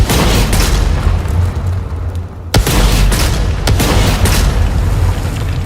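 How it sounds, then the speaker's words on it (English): Rocket launcher and grenade launcher fire in Doom: The Dark Ages, with loud, deep booms over a heavy rumbling bed and sharp blasts punching through at intervals. "the rocket launcher not only looks good, but the sound of it is just so epically awesome"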